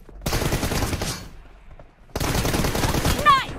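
Rapid automatic gunfire from a PUBG Mobile team deathmatch, two long loud bursts of machine-gun fire separated by a brief lull, with a faint game sound near the end.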